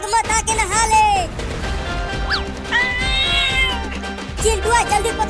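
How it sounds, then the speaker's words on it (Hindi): A cat meows several times in quick, rising and falling calls as it runs off during a noisy household chase, with people shouting and talking over it throughout. "अरे पकड़ो बिल्ली को, वो भाग रही है।"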